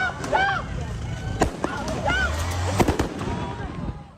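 Police flashbang grenades go off at a protest outside the Brooklyn Center Police Department, with several sharp, loud bangs cracking over a shouting crowd and raised voices.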